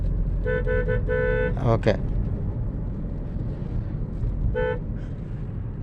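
Horn of a Maruti Brezza car during a driving lesson, several short beeps in a quick burst followed by another brief toot a few seconds later, close and clear over engine hum, with people talking.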